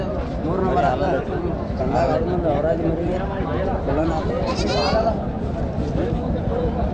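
Sheep and lambs bleat over and over at a busy sheep market in Mudhol, their cries mixing with the steady crowd noise and people talking nearby.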